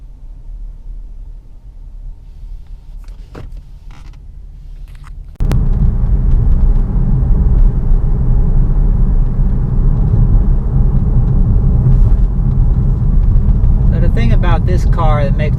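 A 2014 Cadillac ELR shifted into reverse and backing up: a quiet hum that suddenly steps up into a loud, steady low rumble, with a voice talking over it.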